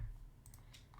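A few quick, quiet clicks of keys on a computer keyboard as a word is typed, faint against a low background hum.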